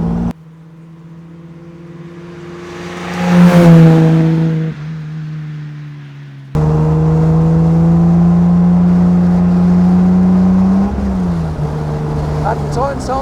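A 1953 Aston Martin DB2 Vantage Drophead Coupé engine drones loudly while driving, swelling in pitch as the revs climb, then settling into a steady, strong, close-up hum with a brief dip in revs near the end.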